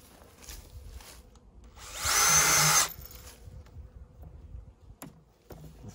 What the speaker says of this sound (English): Before I drill another hole,